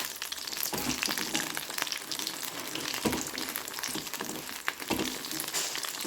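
Paneer 65 frying in hot oil: a steady, crackling sizzle throughout, with small bubbling pops rising and falling close by.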